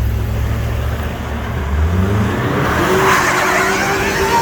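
A Chevy Suburban truck engine roars loudly as its front tires squeal and spin in a reverse burnout, the pitch climbing steadily into a sustained screech, with no talking.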